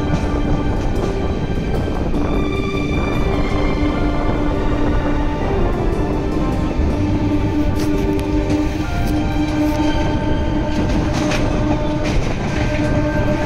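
A train rumbles steadily along the rails between Basirhat and Taki, India, for the whole stretch, with a continuous roar and faint rhythmic clatter, close and loud, no voices.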